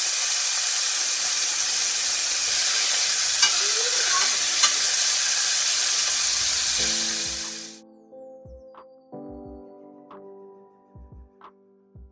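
Deer backstrap fries in a hot skillet with a loud, steady, close sizzle for about seven seconds. The sizzle then cuts off, leaving a few quiet clinks and tones.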